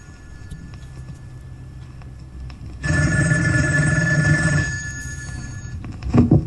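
A telephone bell rings loudly in one sustained burst of about two seconds, rising out of quiet background hiss, followed by fainter noise.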